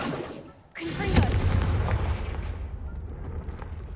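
Confringo blasting spell in a Harry Potter video game, a sudden loud explosive boom followed by a rumbling, crackling blast that slowly fades over several seconds.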